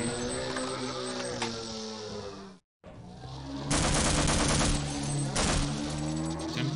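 Rapid automatic gunfire from the video game Half-Life: Opposing Force, loud and continuous bursts that cut out briefly for a moment, then return heavier and denser.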